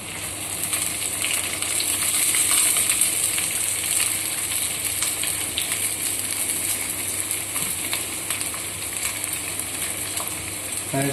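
Onion and green chilli frying in a pan for prawn roast, a loud, continuous sizzle with bubbling and occasional stirring scrapes, close and constant with no talk.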